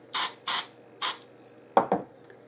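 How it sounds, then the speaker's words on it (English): An aerosol can of spray adhesive is sprayed onto a craft flower in three short, close hissing bursts, followed by two faint clicks. "I am simply going to put a little bit of spray adhesive on that flower"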